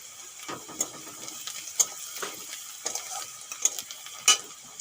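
Sliced onion fries in a pan as ground turmeric, chilli and Kashmiri chilli powder go in for a bhindi curry. A steady soft sizzle runs throughout, broken by repeated scraping stirs and light metallic taps, with no voices.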